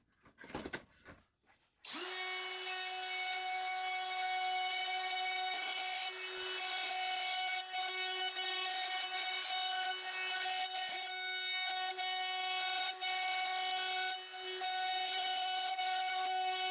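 After a couple of brief knocks, a band saw cuts through pallet wood with a sustained, ringing, tonal whine, steady and close for over fourteen seconds.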